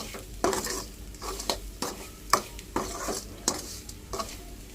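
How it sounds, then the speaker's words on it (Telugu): Grated coconut fries in a pan while a spoon stirs it in regular scraping strokes with sharp clinks against the metal over a low sizzle, close and steady, with no speech. "ఇప్పుడు కొబ్బరిని కొంచెం మంచిగా ఫ్రై చేసుకోవాలంటే మంచి స్మెల్ వచ్చేసరికి."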